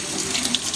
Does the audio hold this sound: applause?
no